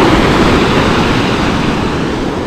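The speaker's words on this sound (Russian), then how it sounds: "Шторма большого нету. Это маленькие такие маленькие волны." Small Black Sea waves wash onto a beach at Lazarevskoye, Sochi, with a continuous low rumbling surf, mixed with wind buffeting the microphone.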